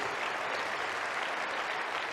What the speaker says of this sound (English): round of applause for our team, please.